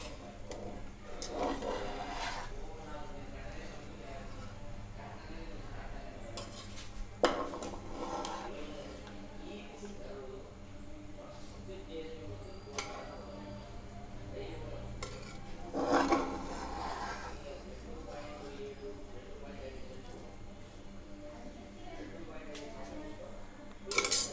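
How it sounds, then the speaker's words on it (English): A spoon scrapes and clinks against a pot while sweet saffron zarda rice is gently turned over, soft repeated scraping with a few louder knocks, close and fairly quiet. "Gently we have to mix the rice upside down like this."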